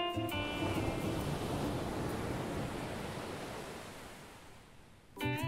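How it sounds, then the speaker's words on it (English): Ocean waves as heard in a seashell held to the ear at a beach, a steady soft hushing roar that slowly fades, with brief musical tones at start and end. "That sounded just like the ocean."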